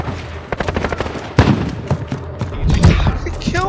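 Gunfire in Call of Duty Modern Warfare, rapid bursts and heavy thumps of shots and impacts, loud and busy, with a voice speaking briefly over the fight.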